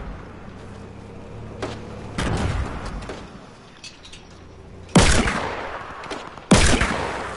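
Gunfire in Fortnite during a solo squads match, with loud bursts of shots arriving in several separate volleys, each cut off sharply, with quieter game ambience between them.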